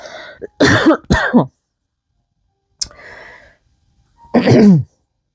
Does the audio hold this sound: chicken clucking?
no